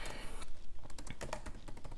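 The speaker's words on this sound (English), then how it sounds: "hit T on my keyboard" Quiet typing on a computer keyboard in a home workspace, a quick irregular run of soft key taps and clicks close to the microphone, with no speech.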